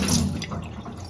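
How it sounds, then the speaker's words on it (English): Water runs from a Delta Signature 470 kitchen faucet with its aerator removed, producing a brief, steady, broadband rushing hiss at close range, with no voices. "water will not be aerated, but water will come out quickly and it won't splash"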